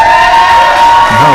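A large crowd at a wrestling-style event cheers loudly and continuously, with a sustained roar of shouts and whoops filling the space.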